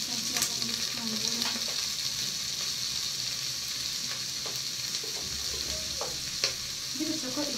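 Onions and peppers fry in a pan, giving a continuous crackling sizzle with scattered sharp pops and occasional scraping stir sounds, close and fairly quiet, without any talking.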